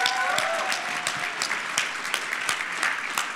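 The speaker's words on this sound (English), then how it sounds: "Let's get a round of applause for them." A convention audience at a closing ceremony claps for the volunteers, continuous loud applause with distinct sharp individual claps popping out near the front, while a voice briefly speaks over the start.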